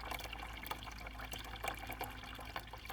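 Tomato feed poured from a watering can, a steady close trickle and splash of liquid running continuously with small drips and bursts, outdoors, with no voice.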